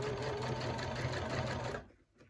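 A domestic sewing machine stitching a Boronia bowler bag, a fast steady needle clatter that runs close and loud before stopping abruptly near the end.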